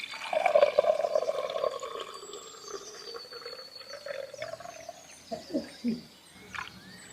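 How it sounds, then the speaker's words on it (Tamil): Milk pours steadily into a tumbler for about two seconds, a low gurgling stream that tapers off, followed by a few soft knocks and handling sounds. "இந்த டம்ளருக்கு பாலை கொள்ளுவோம்"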